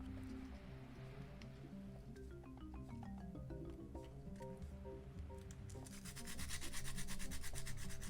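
Hand sanding of a plastic Wii console casing with 120 grit sandpaper, a faint, steady rubbing and scratching that builds into quicker, louder back-and-forth strokes near the end, close up with no talking.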